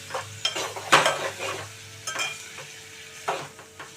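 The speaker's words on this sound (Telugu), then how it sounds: "టమాటాలు అయితే చక్కగా ఉడుకుతున్నాయండి" Tomatoes cooking for an okra tomato curry, with soft sizzling under intermittent scrapes and clinks of a spoon stirring in the pan, several distinct stirring strokes close by.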